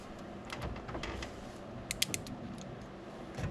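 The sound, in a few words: ratcheting crimp tool crimping Deutsch connector wire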